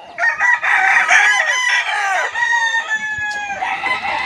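Several roosters crow one after another in long, overlapping calls at a gamefowl breeding farm, loud and close, with clucking around them and no talk.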